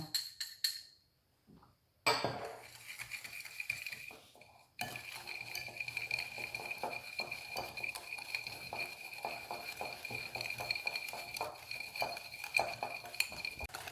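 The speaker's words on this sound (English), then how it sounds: "The more you whisk, the lighter it will be and smoother." A whisk beats eggs, sugar and corn flour in a bowl with quick, fine metallic clinks and scraping strokes that tick steadily and close after a short pause, fairly faint overall.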